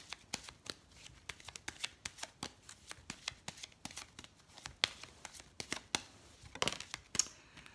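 Lenormand cards shuffled and drawn by hand in a rapid run of crisp, papery riffles and slaps, close and fairly quiet, with a few louder flicks near the end and no talking.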